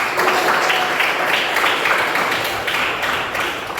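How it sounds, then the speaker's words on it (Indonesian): Dense, rustling applause from a classroom audience during a teaching practice session, steady and fairly loud throughout with no voices. "Tepuk tangan untuk Mas."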